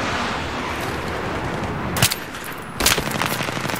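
Gunfire in the video game Battlefield 3, a steady loud rattle of shots with two sharper bursts standing out near the end, no talking over it.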